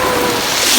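Sea waves at Massandra beach in Crimea, heard as a loud, steady wash of surf close by that fills the whole short moment with broad hiss and no voices.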